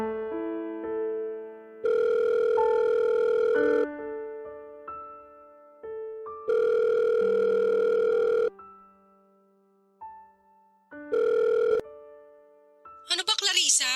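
A telephone rings for an incoming call at night, three loud bursts of an electronic ring with near-silent pauses between them and a soft musical tone under the quiet stretches.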